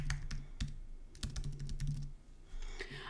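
Computer keyboard typing in a quiet room: a quick, uneven run of crisp key clicks for about three seconds while words are entered for a cake topper design, with no voices.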